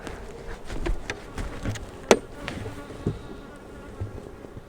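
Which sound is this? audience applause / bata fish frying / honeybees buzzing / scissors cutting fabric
honeybees buzzing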